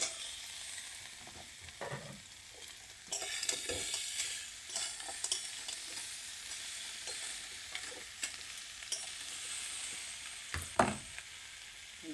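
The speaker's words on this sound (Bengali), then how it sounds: "এবার ভাজা কাঁকড়াতে দিয়ে দেবো।" Fried crab pieces stirred into cooked spice paste in a hot pan, with steady sizzling and repeated scraping, clacking spoon strokes at an irregular rhythm, close and moderately loud, with no voices.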